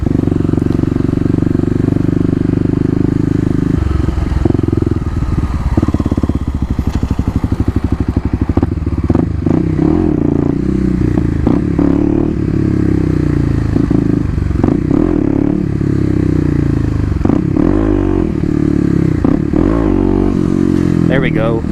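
A Kawasaki KLX250 dirt bike revs and surges through wheelie drills and trials-style riding, the engine note rising and falling unevenly with clattering and scraping mixed in, heard close and loud throughout.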